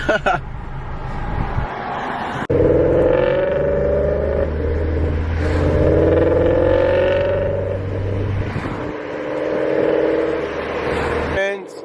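A Ford Mustang GT 5.0 S550 with a new O2 sensor rumbles at idle with a deep, steady, close drone that swells and eases over several seconds, while people talk over it.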